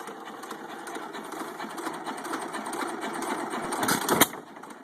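A 1917 United 2 1/2 hp hit-and-miss stationary engine runs steadily up close, with a dense mechanical clatter and a brief louder burst near the end.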